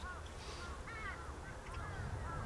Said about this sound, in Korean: 아, 먼저 까마귀들이 몰려드네